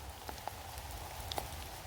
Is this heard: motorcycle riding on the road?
no